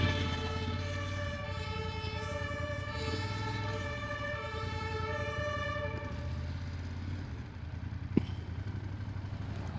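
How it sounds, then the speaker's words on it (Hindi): A fire engine siren wails loudly with layered rising and falling tones over traffic rumble in Berlin, passing nearby, with a sharp knock near the end. "फायर ब्रिगेड भी उड़ाती हुई जा रही है"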